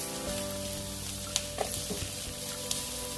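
Chiles going into a hot pan for cortadillo de res give a steady close sizzle with a few light stirring clicks and scrapes, and no talking.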